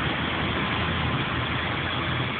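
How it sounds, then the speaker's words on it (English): A London single-decker bendy bus idles nearby with a steady, unbroken engine drone and broadband hum that holds constant throughout, with no talk over it. "here is one of the new single bendy buses that I mentioned earlier"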